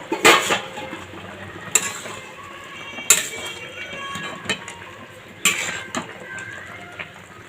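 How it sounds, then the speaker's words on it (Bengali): A lid comes off a cooking pot of Bengali shukto, a few sharp metallic clanks and scrapes spaced a second or two apart, close and fairly loud over a quiet kitchen background. "দেখো তোমরা ঢাকনাটা নামাচ্ছি।"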